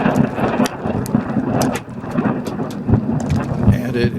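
Steady rain and rumbling thunder from lightning strikes fill the scene, with crackling bursts and wind buffeting the microphone throughout.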